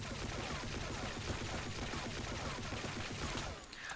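Rapid sustained rifle fire in the online shooter Blackshot, loud dense automatic shots in a fast steady rhythm that breaks off just before the end, no voices.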